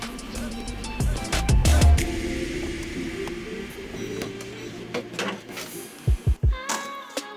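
A 3D printer printing a plastic quick-release camera plate for a Nikon P950, with irregular motor whirs, buzzing moves and sharp clicks, and a few low thumps near the end, close and moderately loud.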